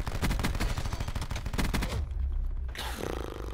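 Rapid automatic gunfire from Call of Duty (2019) rattles in a dense burst, then breaks off briefly before shots resume, loud and close throughout.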